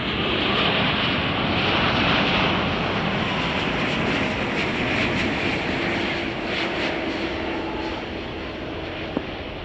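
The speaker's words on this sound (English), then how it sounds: "United Flight 415 from Milan. Boeing 777" A United Boeing 777 arriving from Milan lands at Chicago O'Hare, its jet engines giving a loud, steady roar that holds evenly throughout, alone with no talking.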